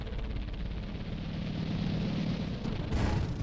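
A tank shell striking a player's tank in the game Sprocket, heard as a dense, continuous low rumble and roar that swells toward the end with a brighter burst, fairly subdued overall and with no voices.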